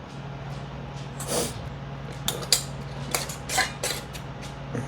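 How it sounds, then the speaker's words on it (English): Metal lids are set onto glass canning jars holding homemade blueberry jelly, salsa and pickled peppers and twisted hand-tight, giving several close clinks and scraping twists over a faint background hum. "Now I will stick some lids on there."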